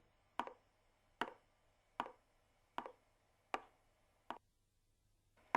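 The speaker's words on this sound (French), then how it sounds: "L'isolant phonique absorbe les bruits d'impact." Sharp impact knocks on a floor screed laid over acoustic insulation, six evenly spaced dry taps about 0.8 seconds apart, each short and damped, heard alone in a quiet room.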